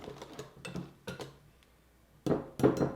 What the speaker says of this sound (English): We're just going to stir them in to the other mixture.